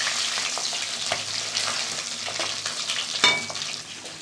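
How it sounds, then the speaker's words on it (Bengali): Hilsa fish roe fries in hot oil in a pan, a close, steady sizzle with a few soft clicks and one sharper knock of a utensil against the pan, with no one speaking. "এবার ডিমটা ভাজা হলেই হয়ে যাবে।"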